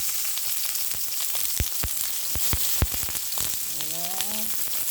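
Garlic and onion fry in hot cooking oil, a steady sizzle with sharp crackles and pops, plus a brief sliding tonal squeak near the end.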